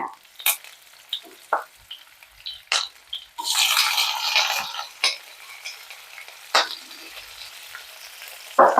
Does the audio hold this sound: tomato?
yes